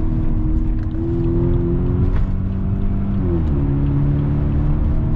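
A BMW E65 745i with a V8 suffering valve seal oil leaks is driven hard, a loud steady engine drone heard from the cabin with pitch stepping between gears.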